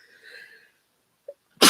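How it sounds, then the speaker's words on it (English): A single sharp sneeze bursts out at the very end, close and loud, after a faint voice and a brief small sound, during a quilting livestream indoors. "Ooh, I'm going to sneeze."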